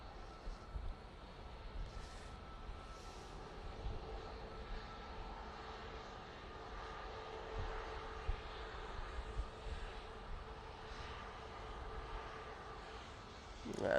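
Airliners taking off at Manchester Airport, a steady broad jet roar heard from a distance that holds evenly throughout and swells slightly at the very end.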